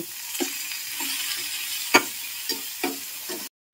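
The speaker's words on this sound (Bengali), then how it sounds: "চিংড়ি মাছটা আমি হালকা বেশি ভাজবো না, বেশি ভাজলে শক্ত শক্ত হলে খেতে ভালো লাগে না।" Prawns fry lightly in hot oil in a pan for a Bengali potol chingri dish, giving a faint, steady sizzle punctuated by soft utensil taps about every half second, then a brief cut to silence near the end.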